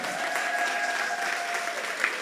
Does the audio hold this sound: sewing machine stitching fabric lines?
no